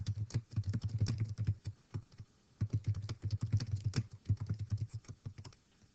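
Steady typing on a computer keyboard, rapid close key clicks in two bursts separated by a brief pause, no talking.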